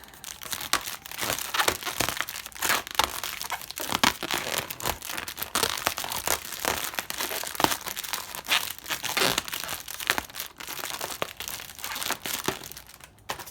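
Blue tissue paper wrapping a makeup haul crinkles and rustles continuously at close range, with dense crackling and sharp crunches throughout and no voices.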